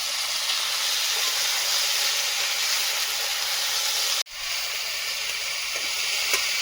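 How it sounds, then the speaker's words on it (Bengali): Potatoes frying in oil with whole cumin and turmeric give a loud, continuous hissing sizzle that drops out sharply for an instant about two-thirds through and then resumes, with light crackles near the end and no voices. "আর আলুটা ভেজে নিই"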